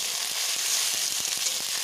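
Ginger paste sizzles in hot oil for a country chicken curry, alongside garlic paste and dried chillies, a loud continuous frying hiss with faint stirring ticks, close by and without talk.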